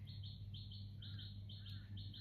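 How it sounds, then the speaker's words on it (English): A bird chirps in repeated short bursts, its bright calls recurring steadily over a low constant hum, fairly close and clear with no one talking. "Freaking bird just now. It sounds like an alarm."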